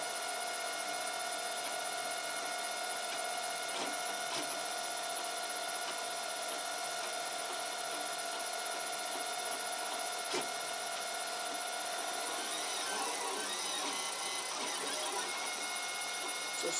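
A 3D printer prints PLA with the nozzle at 200 and the bed at 70, giving a steady mechanical whir and hum throughout with faint stepper-motor tones, close and fairly quiet.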